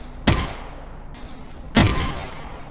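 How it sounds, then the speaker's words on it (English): Two sharp, booming gunshots from a pistol in the VR game Half-Life: Alyx, about a second and a half apart, each followed by a short decaying tail, with a metallic click hinting at an empty magazine. "Then you'll hear a unique sound when your magazine is empty, but the final round is still chambered."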